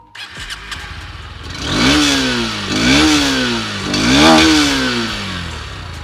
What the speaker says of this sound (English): The motorcycle gets a side-hung single barrel exhaust.